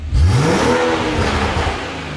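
A Stage 3 BMW M140i with a new exhaust, set to Sport Plus, revs up hard from idle with a rising growl, then holds a loud, raspy drone, heard close.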